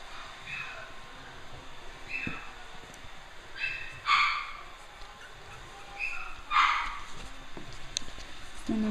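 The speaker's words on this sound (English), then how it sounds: "Here are Dulce's puppies" Five-week-old puppies give several short, high yips and whimpers in bursts, with a louder cluster near the middle and another toward the end, over a steady background hiss and faint voices.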